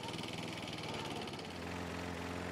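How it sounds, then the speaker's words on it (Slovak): A walk-behind lawn mower runs while cutting grass, its engine a quiet, steady, low hum with a slight shift in pitch partway through. "Takto sa kosí tráva."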